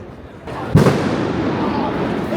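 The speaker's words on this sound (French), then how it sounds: "C'est une voiture qui a explosé là." A sharp, loud blast goes off outdoors as a car explodes, then a rumbling, crackling tail lingers over a noisy background.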